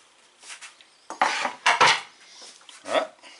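Diced potatoes tipped into a bowl for Southern potato salad, a few quick clattering knocks and scrapes against the dish in irregular bursts, close and fairly loud.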